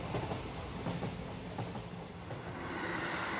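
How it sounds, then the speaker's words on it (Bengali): A train pulls out of a small station, a steady rumble with faint clattering wheels, moderately loud and alone with no voices. "তারপর স্টেশন কাঁপিয়ে ট্রেন ছুটে বেরিয়ে যেতেই অন্ধকার ঘিরে ধরল।"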